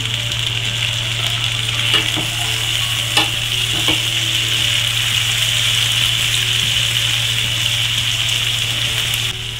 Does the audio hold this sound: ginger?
yes